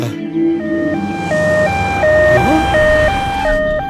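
A two-tone ambulance siren wails in alternating high and low steps, loud and close, with a brief voice near the start.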